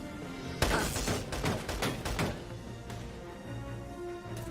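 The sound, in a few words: enemy gunfire in Valkyria Chronicles 4 video game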